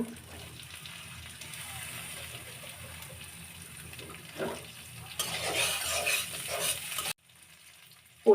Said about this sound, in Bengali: কচু রান্না করার জন্য প্রথমে তেল দেব এবার কেটে রাখা পেঁয়াজ মরিচ দিব